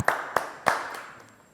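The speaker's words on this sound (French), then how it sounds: "Un tonnerre d'applaudissements pour Tony" A small audience on a French show greets a guitarist named Tony with just three sharp, close handclaps spaced about a third of a second apart, their ring fading into quiet.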